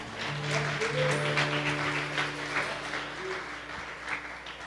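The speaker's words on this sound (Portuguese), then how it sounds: "Aplauda o Senhor com o seu melhor." A church congregation at an evening service applauds, a soft, fairly distant patter of clapping held under a sustained organ or keyboard chord that rings through the whole stretch.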